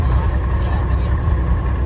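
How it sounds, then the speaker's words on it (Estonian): A boat outboard motor under repair close by on a Maldives island, running with a loud, continuous rumbling drone for the whole stretch. "Paadimootori remont käib juures."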